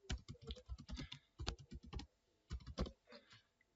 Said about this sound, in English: type in their email address in full